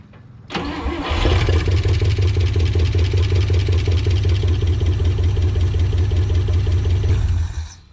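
An old International truck, last tagged in 2005, cranks over and catches, then settles into a steady loud idle with a slight chatter. It runs close for several seconds before cutting off.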